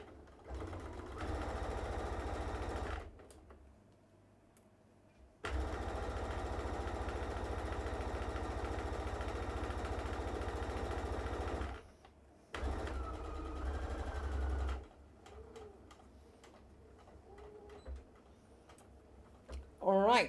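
Sewing machine stitching fabric in bursts, a fast mechanical whirring hum that starts and stops several times, close up, with a voice speaking briefly in the pauses.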